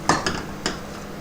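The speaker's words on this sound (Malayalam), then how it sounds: "ഇനി നമ്മുടെ ഈ മസാല നന്നായിട്ട് ഇളക്കി യോജിപ്പിക്കുക." A masala dosa potato filling is stirred in a pan over a low flame, giving two or three quick scraping clinks of a spoon against the metal, close and moderately loud, with no talk.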